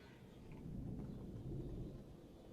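Low thunder rumbling during a storm in Crimea, a steady deep roll that swells slightly in the middle and continues without voices.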